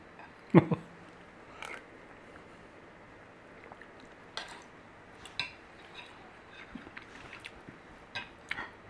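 Someone eats a cheesy ham and veggie chowder: soft, faint chewing and occasional light clinks of a spoon against a bowl, scattered over a quiet background.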